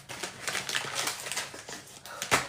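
Crinkly plastic wrapper rustles and crackles in quick irregular bursts close by, ending with a louder crinkle.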